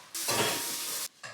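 Onions sizzle and hiss in a hot soup pot while being stirred, a close, bright frying crackle that swells for most of a second, drops off briefly, then resumes.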